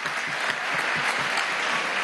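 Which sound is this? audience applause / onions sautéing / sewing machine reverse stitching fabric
audience applause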